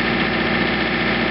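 A John Deere 2720 compact tractor engine runs steadily at around 1700 RPM while powering a 47-inch snowblower, a loud, close, continuous mechanical drone with the blower churning, no talk.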